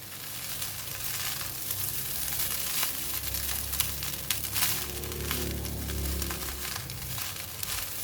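Belacan (spicy shrimp paste) fried rice sizzles continuously in a hot pan while being stir-fried and mixed, a dense, even crackle with faint scraping of the utensil throughout.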